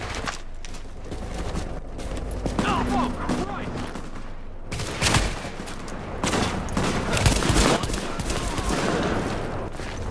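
Rapid gunfire in The Division's beta, including pistol shots, crackles in dense bursts and single cracks through the whole stretch, loud and close, with excited voices and game sounds around it.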